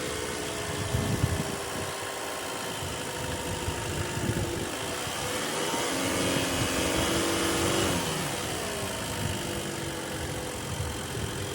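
A 2016 Chevy Malibu engine idles steadily, then rises in a gentle rev as gas is given before settling back, heard up close with a constant hum and no talking.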